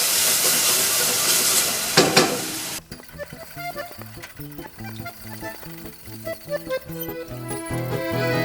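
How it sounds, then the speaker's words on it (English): Milk poured into a hot flour-and-butter roux for classic Italian lasagne bubbles and sizzles loudly, settling after a few seconds into quieter stirring and bubbling with rhythmic scraping, close up and with no talk. "Now we add 500 milliliters of milk"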